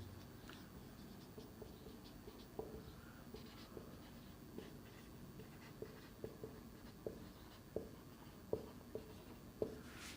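Pen or pencil writing on paper while solving a math exercise, soft close scratching strokes with light taps, growing slightly sharper toward the end, with no talking.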